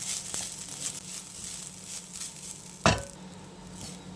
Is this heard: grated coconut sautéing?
yes